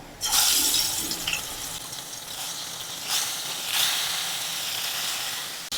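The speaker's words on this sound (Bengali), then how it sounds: "আর এদিকে মাছ ভাজা হচ্ছে।" Fish fries in hot oil in a kitchen pan, giving a steady, close sizzle and hiss that swells in a few brief louder bursts, with no talking.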